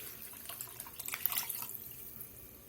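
Water pours steadily into a pot, a close splashing trickle that swells briefly in the middle and then eases off.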